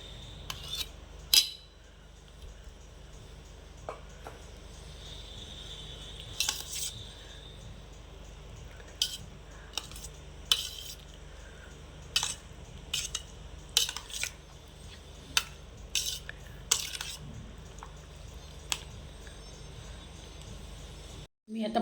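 A spoon clinks sharply and irregularly against a bowl while curd salad (dahi koshimbir) is mixed, with soft squelching between the close, bright taps over a quiet background.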